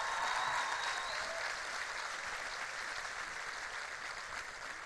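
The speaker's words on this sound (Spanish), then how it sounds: "¡Fuerte aplauso para ustedes!" A crowd at a streamed event in Uruguay gives a big round of applause, a loud, dense, unbroken wash of clapping that holds steady throughout and eases only slightly toward the end.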